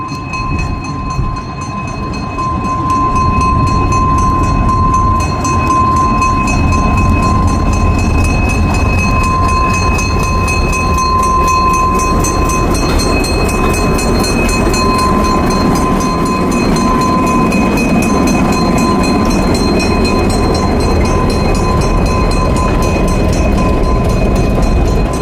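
A diesel train passes close by and loud, a continuous heavy rumble and rattle of rail cars with steady high tones running through it for the whole stretch.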